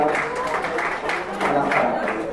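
Audience applause at a Laredo College event welcoming a COMCE Noreste office, steady clapping filling the room with a voice speaking over it.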